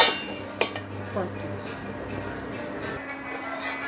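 A lid goes onto a pot of Kashmiri dum aloo: one sharp metallic clink near the start, close and fairly loud, then a low steady kitchen hum with faint rattles.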